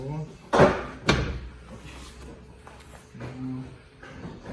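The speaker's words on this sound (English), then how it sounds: "Let me close the door." Two sharp thumps sound as a door is pushed shut beside a BMW M4 during window trim removal, followed by quieter handling noises, with a person speaking nearby.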